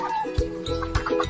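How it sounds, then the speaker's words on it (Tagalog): Chickens cluck close by while being fed on a farm in the morning, short clucks and calls repeating in bursts with busy rustling between them, no talk over it. "Diyan na punta kay magpakaon ta og manok."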